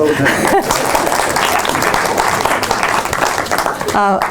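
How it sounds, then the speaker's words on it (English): An audience claps in sustained applause, loud and dense, with a few voices and light laughter breaking through near the start and end. "Let's give him a round of applause."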